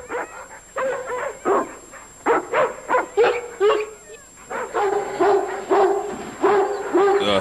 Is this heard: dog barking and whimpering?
yes